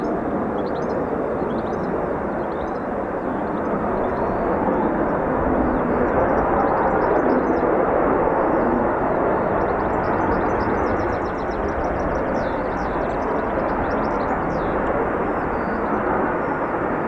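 An F-35B stealth fighter jet roars steadily through a low approach with thrust vectoring, a loud, continuous broadband jet rumble holding for the whole stretch with a slight swell in the middle.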